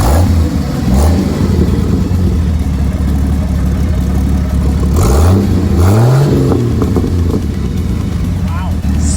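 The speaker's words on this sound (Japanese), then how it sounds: "エンジンかけてみよう。" A Toyota Land Cruiser engine starts and rumbles loudly, revving up in several rising surges with throaty roars between steady idling.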